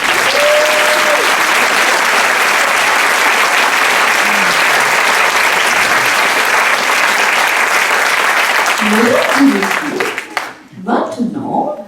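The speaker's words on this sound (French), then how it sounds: "On peut les applaudir." Sustained loud audience applause for the performers at a burlesque show in a theatre, dense and steady for about ten seconds before thinning out, with a voice and a few scattered claps emerging at the end.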